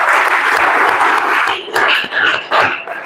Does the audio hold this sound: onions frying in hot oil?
no